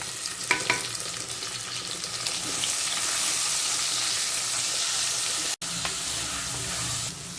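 Crushed small shallots and garlic sauté in hot oil for a squid masala fry, a steady close sizzle with a few stirring scrapes near the start and one brief gap in the frying noise.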